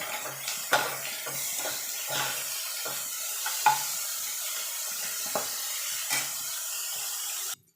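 Carrot and cabbage stir-frying in a hot pan for egg chowmein, a steady sizzle running throughout with repeated scraping and clanking strokes of a spatula against the pan, close and moderately loud.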